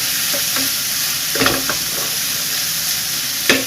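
Pork with Baguio green beans, tomato and chili sizzles steadily in a hot pan while a utensil stirs and scrapes through it in a few distinct strokes, close and fairly loud, with no talking.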